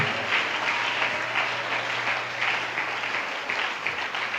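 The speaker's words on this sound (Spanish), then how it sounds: "Dele fuerte ese aplauso." A church congregation claps continuously in a dense, steady wash of applause at moderate loudness, with little talk over it.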